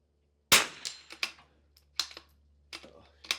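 Rifle shots ring out at NRL22 match targets on a range, a handful of sharp cracks spaced irregularly over a few seconds, the first loudest, with a short fading tail after each.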